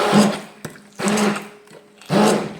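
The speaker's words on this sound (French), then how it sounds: "Je vais déjà mixer." An electric blender runs in three short bursts, mixing food for a meal prep, each burst whirring loudly and then stopping, with quiet gaps and a clink between them.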